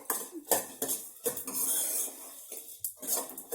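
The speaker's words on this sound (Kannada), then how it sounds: "ಅದನ್ನು ಹಾಕೊಂಡ್ಬಿಟ್ಟು ನೀಟಾಗಿ ಮಿಕ್ಸ್ ಮಾಡಿಕೊಂಡೆ" Onions and turmeric are stirred in a pan for a masala buttermilk rasam, with a string of sharp metal spoon clanks and scrapes against the pan coming in uneven bursts, close and without speech.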